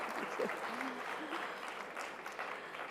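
Audience applause at a conference, a steady wash of clapping that runs throughout at moderate level, with a faint voice briefly audible.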